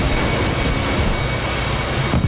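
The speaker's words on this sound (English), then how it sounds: "Planes are taxiing to scramble." Carrier jet planes taxiing to scramble in a naval battle video game give a loud, continuous broadband engine roar and rumble, with a brief bump near the end and no talk.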